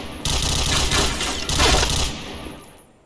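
Rapid Kriss submachine gun fire in the shooter game Point Blank, a dense close burst of rattling shots in a few quick volleys that fades out over about three seconds.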